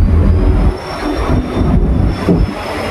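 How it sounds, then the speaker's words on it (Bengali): Steady low rumble of a train bound for Howrah from Digha, heard from inside an empty carriage, with rolling wheel noise and a faint high whine over the clatter. "আমাদের ট্রেন রওনা দিয়ে দিয়েছে হাওড়ার উদ্দেশ্যে"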